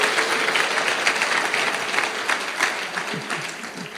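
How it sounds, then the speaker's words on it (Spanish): A church congregation claps in a sustained burst of applause, dense and loud, with voices faintly mixed into the crowd noise. "dar un aplauso más fuerte al Señor"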